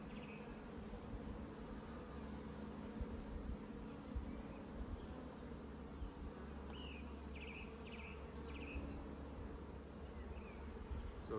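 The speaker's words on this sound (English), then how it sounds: "see all the bees there. That's the nuke box is full." Honey bees in a full nuc box, a dense steady hum holding throughout at moderate level, with a few brief higher buzzes of individual bees passing close.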